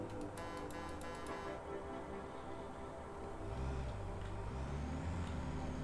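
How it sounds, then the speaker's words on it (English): A quiet truck drives in the Satisfactory video game, giving a steady, low engine drone and rumble that stays fairly even throughout, with no talking. "How come my truck is so quiet and like my trains and everything are so loud?"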